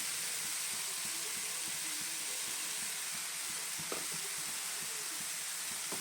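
Carrot halwa in a pan on the stove as sugar is added and stirred in, giving a steady soft sizzle and hiss with faint scraping stir strokes throughout.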